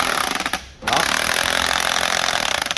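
A cordless combination rotary hammer drill and chisel runs loud and close, with rapid pulsed hammering that cuts out for a moment, then restarts and keeps pounding steadily.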